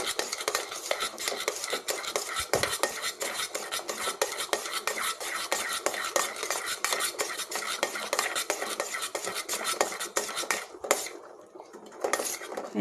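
Homemade aloe vera soap mixture, melted with coconut milk, being stirred steadily in a pot, with continuous close scraping and clinking of a utensil against the pan, with no talk, before the stirring drops away near the end.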